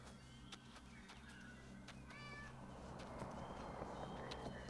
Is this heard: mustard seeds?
no